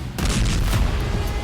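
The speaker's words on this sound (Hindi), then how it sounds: "और फिर होता है जबरदस्त धमाका" A powerful explosion from a drone strike on soldiers in the Russia-Ukraine war, a sudden deep boom that rolls on as a sustained rumbling blast for over a second, loud and close with no talking.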